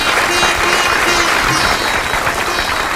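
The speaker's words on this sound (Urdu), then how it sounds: "تالیاں ایلیا زار کے لیے" An audience at an Urdu literary gathering in California applauds as Alya Czar is introduced, a dense, steady roar of many hands clapping together for the full three seconds, loud and close.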